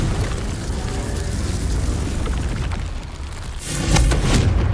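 A Confringo spell detonates in Hogwarts Legacy, a dense, loud roaring blast that swells into a sharper burst near the end, with no talk over it.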